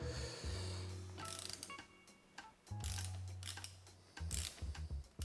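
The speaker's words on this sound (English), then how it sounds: "Oh, would help if I had my spanner on the right way. And with a click." Ratcheting spanner tightening a bolt on a bicycle part, close up: bursts of rapid mechanical clicking from the pawl, separated by short pauses, with a final run of clicks near the end and no speech.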